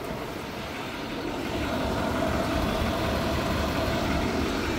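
The 6.6 diesel engine of a 2021 GMC Sierra 3500 Denali idles with a steady, low, rumbling drone that holds even and fairly loud throughout.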